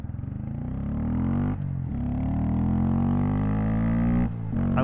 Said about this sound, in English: I love that I can accelerate in the bike lane on a Grom.